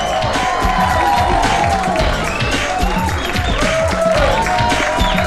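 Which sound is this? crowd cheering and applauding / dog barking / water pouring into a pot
crowd cheering and applauding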